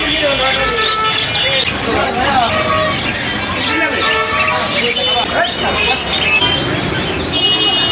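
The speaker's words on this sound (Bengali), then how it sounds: "পাখিদের ডাক আসলে মনটা কেড়ে নেয়" Pigeons and other birds coo and chirp in a busy Dhaka street market among caged birds and rabbits, the calls mixed into a steady crowd murmur and nearby talking.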